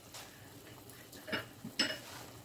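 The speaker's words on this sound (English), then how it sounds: "let me give that a stir, because it's all in there now" A spoon stirs sausage and kale soup in a pot, bringing a few quiet scrapes and clinks against the pot along with soft sloshing, close by and sparse.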